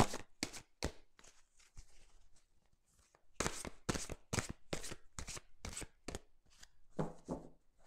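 Tarot cards being shuffled and cut by hand, a run of close, crisp riffling and slapping bursts with short pauses between them, heard alone without talk.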